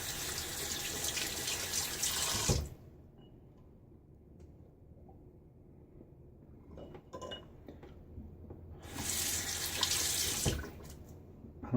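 A bathroom tap runs in two loud hissing bursts while water is added to a shaving lather, with a quieter stretch between them that holds soft clinks and handling noises.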